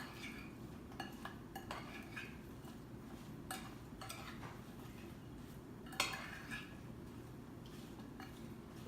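Sweet potato chips are tossed with spices in a bowl, producing soft scattered clinks and rattling scrapes at a quiet level over a low background hum.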